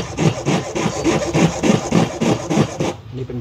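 A coarse hand file rasps across an acrylic amulet frame in steady back-and-forth strokes, about a dozen loud rhythmic scrapes close by before stopping abruptly.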